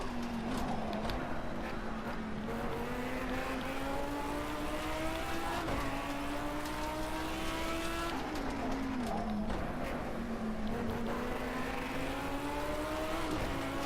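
An orange McLaren race car in a racing video game drives at speed, its engine rising in pitch through repeated gear changes, loud and continuous throughout with no talking.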